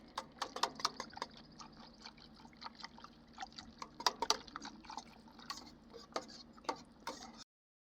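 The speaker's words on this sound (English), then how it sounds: "A good boil going here." A double batch of blackberry syrup bubbles at a rolling boil in a pot, with irregular, crisp pops and plops scattered over a quiet background before the sound cuts off abruptly.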